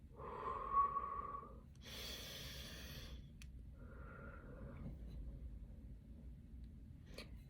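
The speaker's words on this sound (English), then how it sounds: "Just take a deep breath." Slow, deep breaths drawn in and let out during a guided relaxation, one long inhale and exhale followed by a second, softer breath, close and fairly quiet over a low room rumble.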